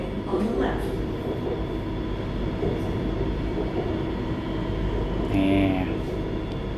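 An elevated skytrain rumbles steadily over a bridge across the Chao Phraya River at Kiakkai, Bangkok, heard from inside the carriage, with a faint squeal and brief chime-like tones near the end.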